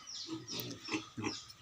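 Pregnant sow about to give birth on a pig farm, making a short series of close, low, rhythmic grunts with no talking.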